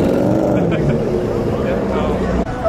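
A lime green Chevrolet Corvette C7 Z06 at a supercar show outside a local bar gives a loud, close engine roar that holds steady for a few seconds, with people talking nearby.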